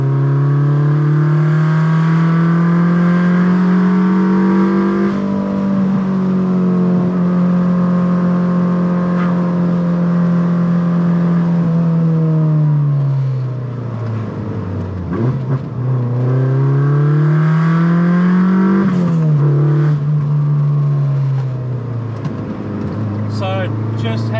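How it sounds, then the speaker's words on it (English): A 400-horsepower Mazda Miata on a canyon road run gives a loud, sustained engine drone that rises and falls as it revs through the gears, dipping off throttle midway, then climbing again, with a voice talking over it. "hear the car scream a couple times"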